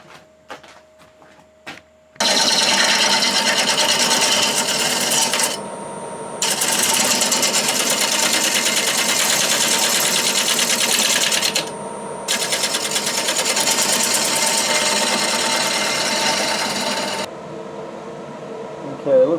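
A wood lathe turns a spalted maple bowl, giving a loud, steady whirring drone with two short dips where the cutting eases, starting after a quiet opening and running for most of the stretch.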